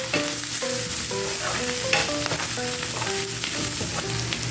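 Ground coriander, turmeric and red chili powder are stirred into keema frying in a pan, with a steady loud sizzle and repeated scraping of the spoon throughout.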